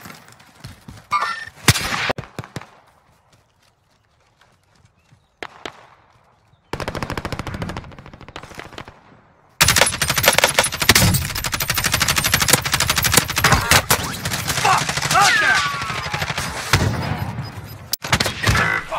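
Gunfire in an online battle-royale-style video game: sparse scattered shots early, then dense, loud bursts of machine gun fire with metallic clangs filling the second half, close and continuous.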